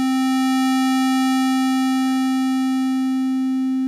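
A sustained synthesizer tone blends a square-wave oscillator with a sine-wave oscillator, holding a steady, buzzy pitch rich in harmonics that shift subtly as the mix changes.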